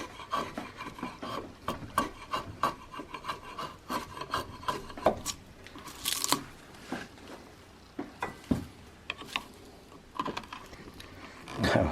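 A small quarter-inch paring chisel shaves wood from a walnut gunstock, cutting the barrel channel for a Tennessee iron-mounted flintlock squirrel rifle: close, dry scraping and rasping strokes in an irregular rhythm, each a short gritty rub.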